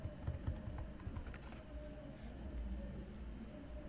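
Fingers type on a computer keyboard, with a short burst of quick, light key clicks in the first second and a half before fading into a steady low room hum; faint and close, with no talking.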